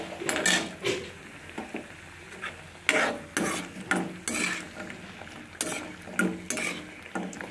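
Homemade masala bori lentil dumplings deep-frying in hot oil on a gas stove, a steady close sizzle broken by repeated sharp spits and bursts of crackling, with light clinks of a utensil against the pan.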